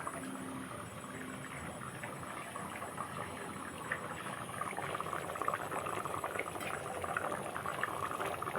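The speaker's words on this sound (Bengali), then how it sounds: "খুব ভালোভাবে ফুটছে" Rohu fish and spinach curry bubbles at a rolling boil in a covered pot, a steady close hiss and bubbling that grows slightly louder toward the end, with no talking.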